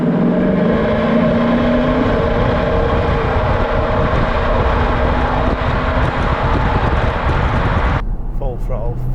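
Audi Q7 with a 4.2 TDI V8 diesel engine held at full throttle on a dyno, a loud, steady, dense drone with a rising low tone early on, cutting off sharply near the end.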